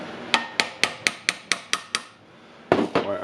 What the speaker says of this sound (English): Why I'm hammering it?